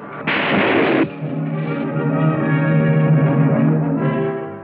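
A submarine torpedo launch from a 1946 naval warfare film: a loud burst of roaring noise hits early and lasts about a second, then gives way to a sustained low droning rumble with tonal hum that continues to the end.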